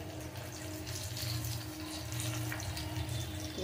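Food frying in a pan, a steady watery hiss and crackle that holds at an even level throughout with no talking over it.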